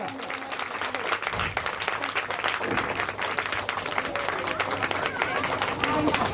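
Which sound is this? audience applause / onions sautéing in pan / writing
audience applause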